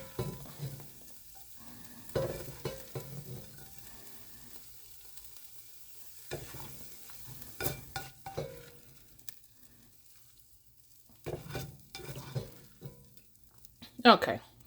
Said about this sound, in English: I'm gonna get the turkey browned up